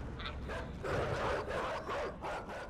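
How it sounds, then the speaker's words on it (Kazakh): Dogs bark in the side-scrolling puzzle game Inside, a few yapping barks over a dense, noisy game soundscape, fairly loud and continuous for a few seconds. "Иттер бар, қара, иттер бізге ештеңе істей алмайды."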